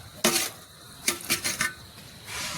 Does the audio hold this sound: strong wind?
no